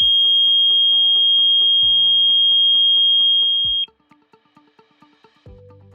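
An SDM 3R docking station for a GX-3R gas detector runs its alarm check: a sustained high piercing tone for several seconds, then it cuts off into rapid short chirps and beeps over low buzzing pulses.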